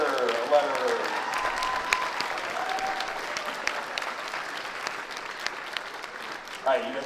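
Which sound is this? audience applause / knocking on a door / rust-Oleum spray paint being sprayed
audience applause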